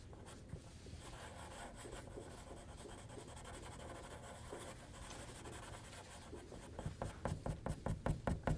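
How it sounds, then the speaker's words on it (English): Side of a pencil shading across paper for a portrait drawing, a soft continuous scratchy rubbing throughout, close and quiet, with a few sharper rhythmic strokes toward the end. "I'm going to shade this by just using the side of my pencil."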